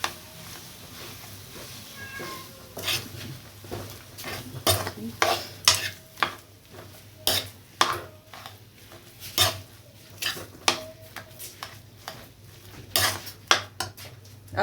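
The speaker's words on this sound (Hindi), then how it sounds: "अब अच्छे से इसको मिक्स कर लेंगे आलू को मसाले के अंदर।" Mashed potato gets stirred into spices in a pan for aloo patties, a spoon scraping and knocking against the metal in uneven, repeated strokes with a faint sizzle beneath.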